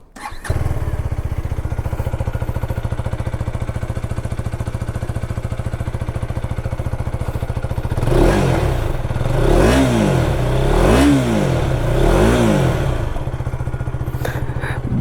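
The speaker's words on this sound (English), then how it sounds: "let's also hear the exhaust note." A KTM Adventure 250 motorcycle engine idles with a deep, steady thrum, then revs up and down in four rising-and-falling bursts of exhaust before settling back.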